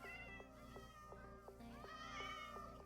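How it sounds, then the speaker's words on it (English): Many cats meow in a Minecraft village, a dense, loud stream of overlapping game meows in quick rhythmic bursts, alone and without talk. "loud because there's lots of cat meows"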